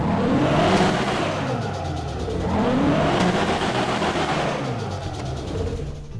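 A modified car exhaust in the GTA V game revs hard in repeated rising and falling surges, a loud, close engine roar that continues throughout.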